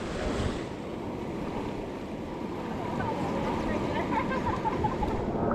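Water rushes steadily over a pour-over rapid on the Klamath River, a continuous broad roar mixed with wind buffeting the microphone, with faint voices in the background.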